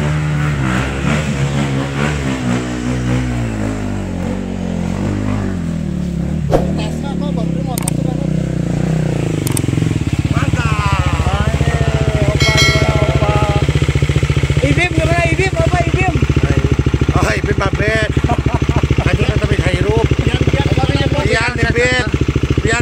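A Honda motorcycle riding along a road near Cikareumbi, Cicalengka, its mid-pitched engine revving and droning steadily close by for most of the stretch, with voices talking over it early on.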